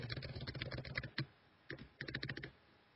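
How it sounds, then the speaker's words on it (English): Rapid computer keyboard typing, close and clear, in two bursts of quick keystrokes separated by a short pause, with a few final taps. "Are you typing?"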